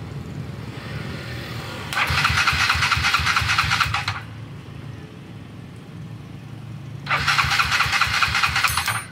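A rebuilt motorcycle engine with a flat head and shark-head rocker arm is cranked on its first start, firing into two loud bursts of revving separated by a rougher idle, heard up close with no talk.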